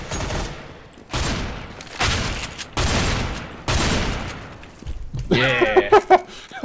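Gunfire from a new weapon in the video game Counter-Strike: Global Offensive: five loud, close bursts of rapid shots, each trailing off, followed by a short, choppy tail of smaller sounds.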